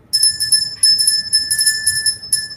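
A small bell rings steadily and repeatedly with bright, sustained tones in short clustered strokes, close by and fairly loud, against a quiet room background with no talk.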